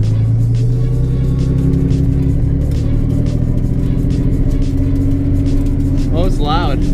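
Nissan 240SX engine droning loudly from inside while driving on the street, a steady low rumble with occasional revving, people talking over it.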